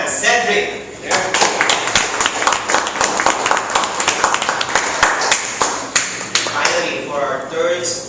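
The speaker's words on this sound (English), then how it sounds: "Another round of applause to Mr." A small Toastmasters club audience claps for a speaker at a meeting, producing a burst of dense, close hand claps that keeps going for several seconds with a voice speaking at the start and end.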